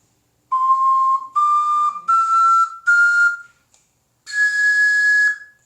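An ocarina plays a rising scale of five clear, sustained notes from high do up to sol, each note held with short breaks between and a longer gap before the final sol, with no talking.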